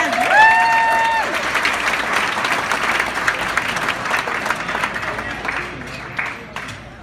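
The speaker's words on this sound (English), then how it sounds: "Can I get a round of applause for this gorgeous couple?" Wedding guests applaud the couple, a large crowd of about 350 giving loud, sustained clapping that slowly fades, with a few voices and whoops mixed in early.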